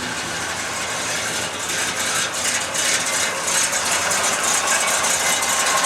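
A carbureted engine runs at a steady idle, giving a close, continuous rattly drone with no talking.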